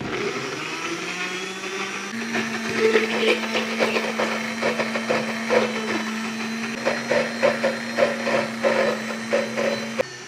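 Blender grinding ginger, garlic and green chili into paste, with a steady motor whine and a rough, uneven churning that pulses as the contents catch and release.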